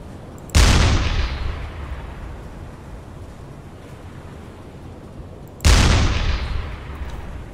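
A U-boat deck gun fires high-explosive rounds in the UBOAT submarine game, two heavy booms about five seconds apart, each a sharp, loud blast trailing off into a long rumbling decay over steady sea and engine noise.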